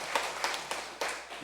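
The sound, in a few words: congregation clapping at a church ordination ceremony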